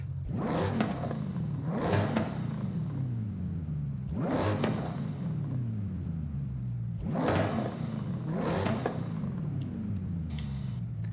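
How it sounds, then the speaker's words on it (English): A supercharged V8 car engine in Forza Horizon 5 revs up sharply and falls back in repeated bursts, about five throttle blips over steady idle rumble, loud and close with no talking. "I kind of like the supercharged V8 sound over the turbo V8 sound"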